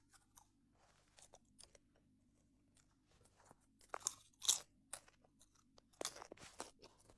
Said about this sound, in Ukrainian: Я попкорн жую.